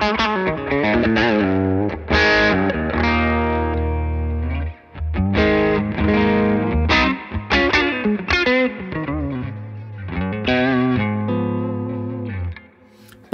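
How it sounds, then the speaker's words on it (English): An electric guitar plays a melodic line with mild overdrive crunch and a reverb tail from a Strymon Volante, notes ringing out with short pauses between phrases. "this is the sound of the guitar straight in"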